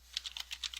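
Quick typing on a computer keyboard, about eight light key clicks in under a second, close and faint with no talk.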